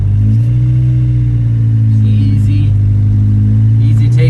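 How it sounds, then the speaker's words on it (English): An Acura Integra with a B18C1 engine, an ACT clutch and a lightweight flywheel pulls away and accelerates through the gears. The engine note is loud and close, with a steady droning pitch that shifts slightly as gears change. "easy takeoff. Make sure that it goes into all the gears. Second gear, third gear, go fourth gear."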